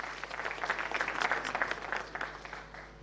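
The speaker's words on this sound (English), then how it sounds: "Please acknowledge his presence with a round of applause." Conference audience at a West Africa Power Pool general assembly applauding a guest, a sustained round of clapping that swells and then tapers off toward the end.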